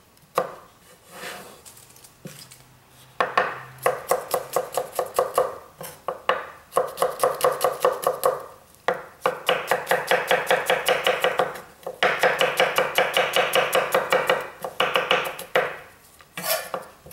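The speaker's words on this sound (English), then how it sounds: "a couple of cloves of garlic. Just want to roughly chop this." A knife roughly chops a couple of garlic cloves on a board, with rapid runs of close, crisp knocks in bursts separated by short pauses.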